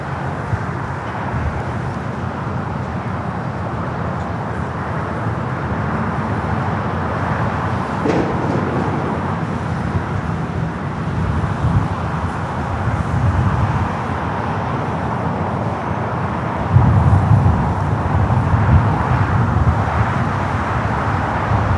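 An Airbus A330neo jet takes off from runway 25 right at LAX, a steady, broad engine roar that swells slightly toward the end with no talking over it.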